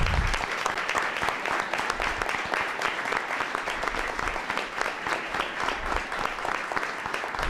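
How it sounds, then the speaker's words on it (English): At a school board meeting, a room of teachers, students and officials breaks into a sustained round of applause. The clapping is dense and even, moderately distant, and goes on without talking. "let's just give everybody a round of applause."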